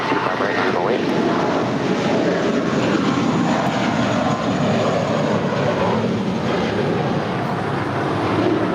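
An airliner takes off from runway 25 right at LAX, a loud, steady broadband jet roar that holds throughout with no pauses.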